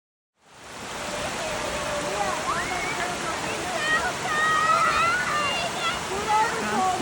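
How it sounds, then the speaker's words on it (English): A waterfall on a hiking trail gives a steady broadband rushing roar that fades in and holds, with birds chirping faintly above it. "See a waterfall."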